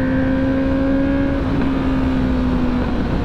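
A newly bought motorcycle's engine runs steadily at idle with a constant low drone and a faint whine over it, close by with no talking.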